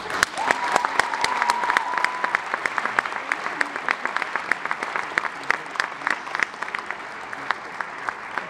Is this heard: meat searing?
no